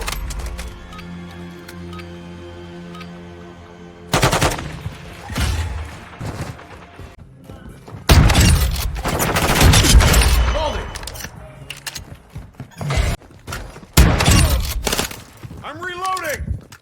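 Heavy shotgun blasts in Modern Warfare 2, booming shots arriving in clusters after a quieter opening, with a voice talking over parts of the firefight.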